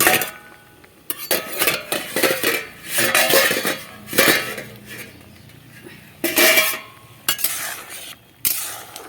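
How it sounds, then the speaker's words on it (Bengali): A pot lid is lifted off a pot of yardlong beans boiling with a little salt in a home kitchen, with loud metallic clanks and clinks of cookware in irregular bursts and no talking. "এবার আমি ঢাকনাটা তুলে নেব"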